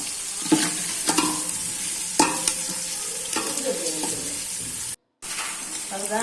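Fennel seeds and onions sauté in a pan with a steady sizzle, punctuated by several sharp scrapes and clinks of a spoon stirring against the metal, close up and with no one talking.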